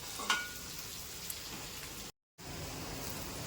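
Onions sizzle in a pan for achari masala okra, a faint, steady frying hiss with a few small pops and a brief break in the middle, no voices over it.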